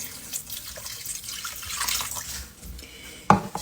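Two cups of water are poured into a pot of chili dog chili with cumin, giving a short, close, splashing stream of running water that ends in a brief louder splash.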